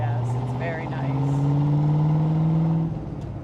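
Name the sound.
1965 Corvette engine running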